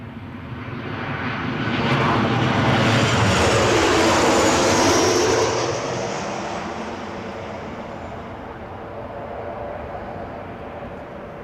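An airliner lands on the runway at Newcastle International Airport, its engine roar swelling loudly over a few seconds, peaking, then easing into a lingering rumble as it rolls past.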